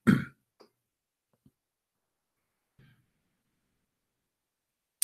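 A man clears his throat and coughs once, loud and close, followed by a few faint small sounds and another short burst at the end, with no talk.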